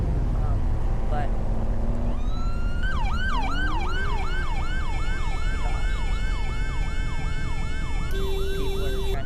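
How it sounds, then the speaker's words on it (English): Wailing ambulance siren in a driving game, sweeping up and down in repeated loud cycles, joined by a second steady siren tone near the end over constant engine rumble. "people are trying to pull over that ambulance"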